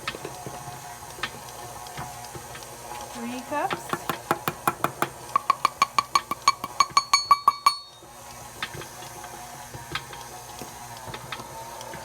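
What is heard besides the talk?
electric mixer straining while mixing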